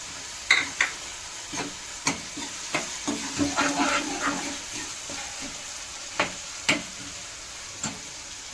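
Onion and spice paste fries in a pan with a quiet sizzle. A spoon scrapes and taps through it in irregular strokes, about a dozen over the stretch, with a busier cluster in the middle.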